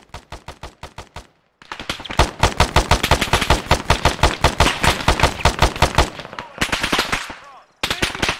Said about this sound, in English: Taking heavy fire here.